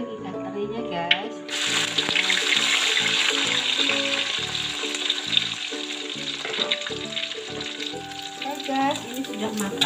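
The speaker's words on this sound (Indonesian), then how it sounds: "Sekarang kita goreng ikan terinya guys." Anchovies fry in hot oil for a potato and petai sambal, a steady close sizzle running throughout beneath background music with a melodic instrumental line.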